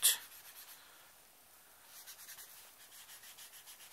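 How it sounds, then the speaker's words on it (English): Tissue paper rubs across a pencil drawing to blend the shading, giving a soft, faint, rhythmic scrubbing heard close up after a brief sharp tap at the start. "Use a bit of tissue paper"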